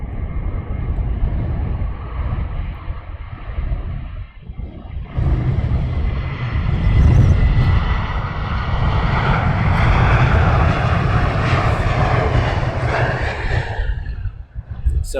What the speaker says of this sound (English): So we're going to get this biz jet going out